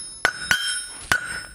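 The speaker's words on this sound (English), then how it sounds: "I'm using a 3-pound hammer and just drawing out this part." Three-pound hammer striking hot steel on the horn of an anvil while drawing out a roasting fork, three sharp ringing blows with a sustained metallic tone, the first two close together and the third after a pause.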